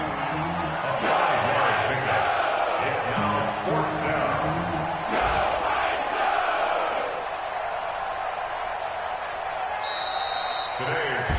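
Stadium crowd noise from a PS4 American football video game, a steady broad roar of many voices with a few brief bursts, running continuously under commentary.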